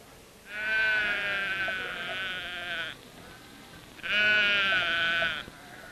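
A sheep bleats twice in a 1957 sleep-aid commercial, giving two long, wavering, loud bleats close to the microphone with a short pause between them and no voices.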